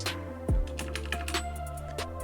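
Keystrokes on a computer keyboard as a Linux command is typed, a series of close, quick clicks and taps with one heavier thump near the start, with no talking.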